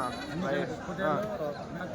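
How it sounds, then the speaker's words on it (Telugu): Sheep, rams and goats bleat repeatedly, with several wavering, overlapping calls close by against a busy livestock market background in Kadiri. "పొట్టేళ్ళు, గొర్రెలు, మేకలు అన్నీ."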